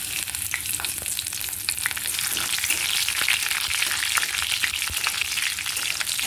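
Torn dried red chilli and three slit green chillies fry in hot oil for a Bengali taro bharta, a steady crackling sizzle with frequent small pops and occasional stirring.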